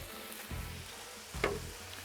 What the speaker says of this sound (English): this is probably going to sizzle, but okay, we're going to add our hamburger to the griddle.